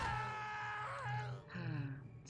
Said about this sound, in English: Sound of, like, the same scream 500 times in your ear